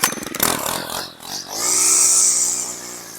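A string trimmer (weed whacker) held just above the lawn, its engine revving up with a loud, high buzzing whine that swells and holds steady as it lightly touches and cuts the grass at close range.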